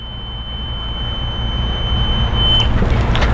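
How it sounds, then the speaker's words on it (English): A steady high electronic beep tone from a wheelchair lift on a 2018 Newmar Ventana 4311 motorhome rings over a low mechanical hum, which grows louder toward the end with some clicking. "Why is it beeping at me?"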